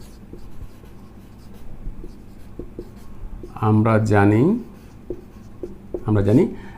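Marker or chalk writing on a board during a chemistry lecture makes soft, steady scratching and tapping strokes throughout, with the lecturer talking over it in two short stretches.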